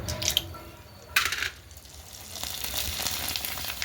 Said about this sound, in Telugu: ఈ గొట్టాలు వేయించుతాను నూనె అయితే వేడైపోయింది